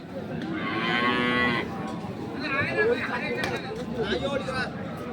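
Dairy cows at the Ambari cattle market in Dinajpur give several loud, drawn-out moos one after another, close by, over a steady murmur of people talking.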